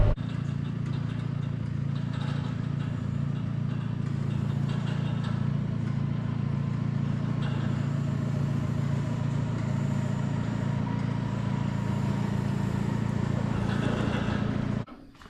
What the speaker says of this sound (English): I'm running the tractor in A range, first gear, so A1 at 1500 RPM